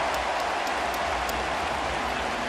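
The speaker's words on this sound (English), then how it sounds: "Some cheering for Guerrero for making a nice play" Cheering crowd at a Rogers Centre baseball game, a steady dense roar of many distant voices sustained throughout, with faint scattered claps.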